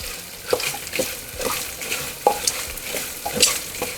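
Chopped onion fries in a pan for masale bhat while a spoon stirs it. Near, crackly sizzling is broken by several sharp scraping strokes against the pan, with no voices.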